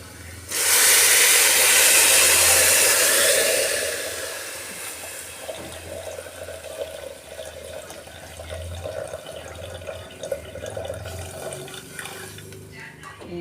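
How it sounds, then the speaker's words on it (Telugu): Soaking water poured off kodo millets rushes out in a loud gush for about three seconds, then drops to a quieter, steady trickle. "ఇప్పుడు మిల్లెట్స్ నానబెట్టుకున్నాం కదా ఈ వాటర్ పోసేసుకున్నాం"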